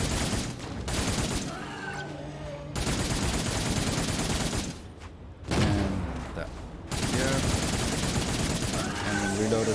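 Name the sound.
minigun firing in Cygnus Enterprises video game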